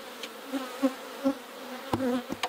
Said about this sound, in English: I think really that's just a bunch of nurse bees.